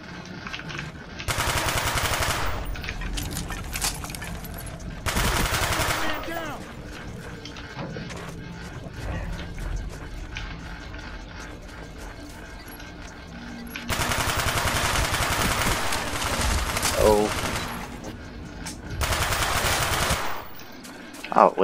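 Dual Mac 11 submachine guns fire in Call of Duty Black Ops: several loud, rapid automatic bursts separated by quieter stretches, with mechanical clicks and a person talking between and over the shots.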